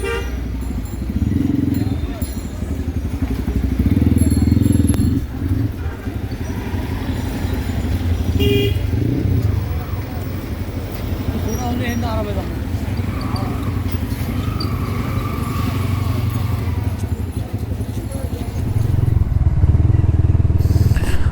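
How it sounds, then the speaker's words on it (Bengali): A TARO GP 1 V3 motorcycle rides along a road in Bangladesh, its steady engine and wind roar continuous and loud throughout, with passing traffic, car horns tooting and people talking over it. "তাহলে আমরা যাত্রা শুরু করে দিই। আলবি ভাইয়ের বাইক রেডি, দুজনেই রেডি।"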